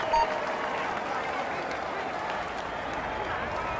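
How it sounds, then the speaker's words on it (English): Crowd applause and cheering for a cyclist at a Tour de France time trial in a racing video game, a steady, dense wash of distant roadside cheers and clapping lasting throughout without a break. "Come on, let's give him a cheer."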